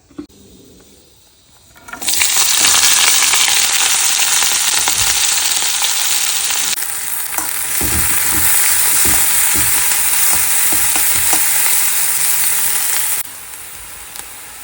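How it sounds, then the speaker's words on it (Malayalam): Loud, steady sizzling of onion, garlic, green chilli and curry leaves sautéing in hot oil, starting after a quiet moment and continuing for several seconds before easing slightly near the end. "ഉള്ളി വെളുത്തുള്ളി പച്ചമുളക് കരിവേപ്പില ഇട്ട് കൊടുത്ത് മുപ്പിച്ചെടുക്കാം"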